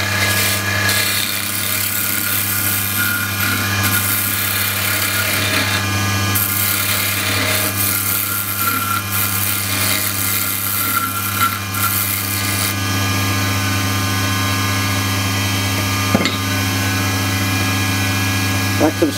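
A wood lathe spins a spindle for a spinning top, holding a steady, loud motor hum and whir throughout while the tool scrapes lightly against the wood.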